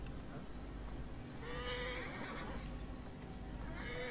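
In the video game Assassin's Creed Origins, a horse whinnies with a clear, moderately loud neigh that rises midway, followed by a second shorter whinny near the end, over a constant low background ambience and no talk.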